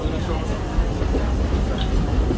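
A Disney park train running on its track on its last lap of the evening, a steady rolling rumble and faint clatter with people talking over it.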